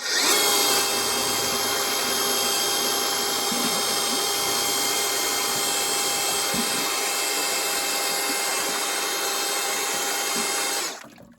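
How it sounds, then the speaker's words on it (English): A power drill whirs steadily and loudly for several seconds, its motor droning at a constant pitch before cutting off at the end. "I reverse the drill and go back the other way"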